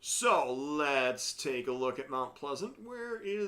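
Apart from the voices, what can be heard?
No everyday noises stand out.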